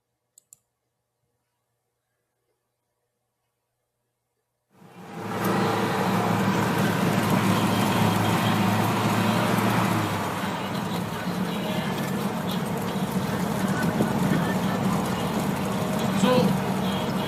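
A jeep jolting along a bumpy road in Mongolia, cutting in after several seconds of silence as a steady rumbling engine and road noise with clattering jolts, continuing to the end.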